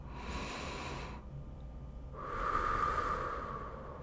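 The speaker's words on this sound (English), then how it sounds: "Let's take 3 more deep breaths here." A slow deep breath during a guided relaxation, one long soft inhale rushing through the airway, a brief pause, then a longer, fuller airy exhale, close and gentle with no talking.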